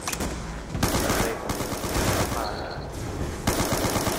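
Rapid MP40 submachine gun fire in a Call of Duty zombies match, a dense continuous burst of shots that runs nearly the whole time at steady loudness, with short gaps between strings.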